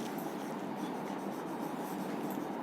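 Marker or chalk scratches steadily across a classroom board during a chemistry lesson, a faint continuous scraping texture with no speech over it.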